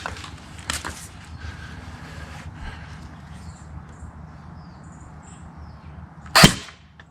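BRO SPEC15 Shorty airsoft rifle firing a single 0.2 gram BB through a chronograph, one sharp loud snap near the end after quieter handling clicks.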